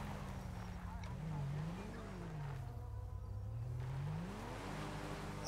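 Car tyres spinning and slipping in GTA 5 on a gendarmerie patrol, a steady engine drone with a wavering pitch that rises and dips, running continuously at moderate level without a break.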